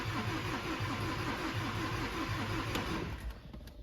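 A Land Rover Discovery Sport with an Ingenium diesel engine cranks over steadily with a rhythmic starter churn that does not catch, then stops abruptly near the end.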